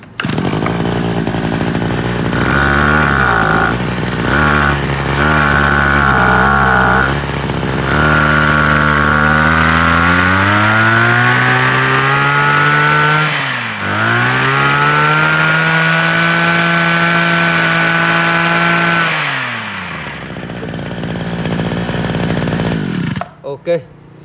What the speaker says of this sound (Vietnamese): máy nổ cực kỳ mạnh luôn